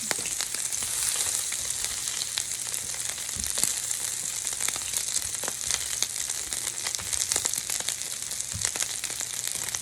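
Shrimp fry in hot oil with a dense, continuous crackling sizzle and scattered sharp pops, all steady and close with no voices.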